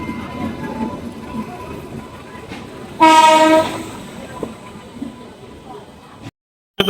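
A Howrah-bound train at a crowded station gives one loud, sustained horn blast lasting about half a second, over murmuring crowd noise and rumble, before the sound cuts briefly.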